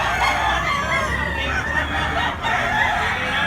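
A bullstag rooster at a market in Tabunok, Cebu crows loudly and close, one long sustained crow with clucking fowl around it.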